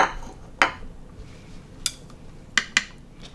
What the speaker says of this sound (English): I'm gonna do a good job chopping.